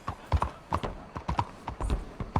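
Horse hooves clopping on cobblestone in the Red Dead Redemption 2 video game, a steady repeating gait of close, crisp hoofbeats with no talk over them.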